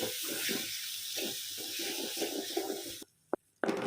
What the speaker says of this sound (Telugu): సో ఇవన్నీ కూడా గుజ్జుగా అయ్యేంత వరకు ఫ్రై చేస్తున్నాము